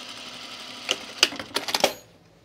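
A sewing machine stitches a French seam on a chino pocket bag, a soft steady hum broken by a handful of sharp clicking bursts near the end before it falls quiet.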